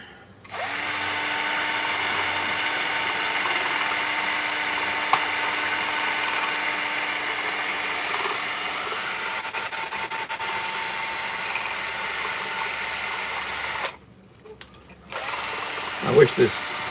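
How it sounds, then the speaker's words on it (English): A loud, continuous whir of a handheld Ryobi power tool mixing eggs, running steadily before cutting out briefly and then resuming with a few clunks. "That's how we mix eggs in America. Yeah, power tools, baby."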